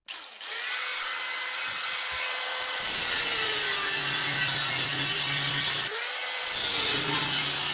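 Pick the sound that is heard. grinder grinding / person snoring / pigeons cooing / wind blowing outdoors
grinder grinding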